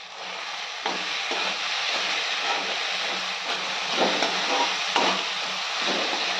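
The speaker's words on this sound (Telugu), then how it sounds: "మూత పెట్టుకొని మంచిగా వేగనిద్దాం" Ridge gourd curry frying under a lid in a covered pan, a steady close hiss of steam and sizzle lasting throughout with a few soft knocks and shifts, no voices.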